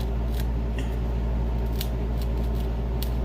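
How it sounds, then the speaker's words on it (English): Scissors snip through material with a series of crisp snapping cuts, sharp clicks spaced irregularly over a steady low background hum, close and clear with no talking. "you can hear it. It actually snaps. It's like a snapping sound"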